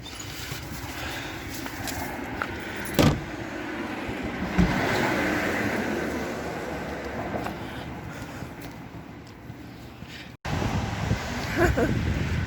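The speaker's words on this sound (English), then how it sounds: "Well, traffic is busy." Busy Sunday road traffic passing, a steady broadband rumble and hiss of vehicles with a few louder swells and knocks, heard from close by with wind noise.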